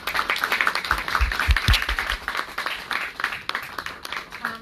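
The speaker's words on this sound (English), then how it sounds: "So one round of applause for all of our panelists" A conference audience claps for the panelists at a voice technology summit press event, moderate-sized applause that is steady and somewhat distant and then thins out, with faint talk underneath.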